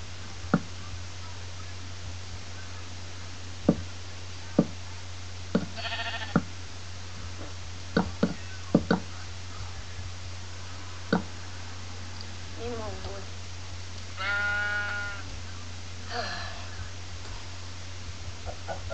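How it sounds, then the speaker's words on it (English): Wood blocks being broken in Minecraft, heard as sparse sharp knocks and short clacks spread across the clip. They sit over a steady low hum, with a few bleat-like animal calls from the game. "I like the sound of breaking the wood."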